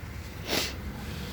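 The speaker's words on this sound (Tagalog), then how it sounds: "Pasensya na sa singhot ah." A single short, breathy sniff rises briefly out of quiet room noise, close to the listener, with no talking around it.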